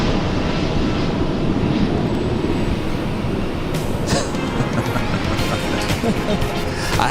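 Airbus A330 rolling for takeoff down the runway at Los Angeles International Airport, a dense broad engine roar swelling steadily, loud and close, with faint clicks and crackles over it.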